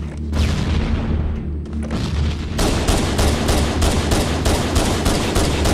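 In a video game, heavy booming grenade explosions mix with rapid gunfire, loud and close, building into a dense, continuous barrage of shots.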